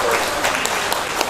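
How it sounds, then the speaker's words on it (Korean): Audience applause at a traditional Korean gugak concert, a steady wash of clapping hands filling the short moment at moderate loudness, with a few sharper individual claps standing out. "큰 박수 부탁드릴게요."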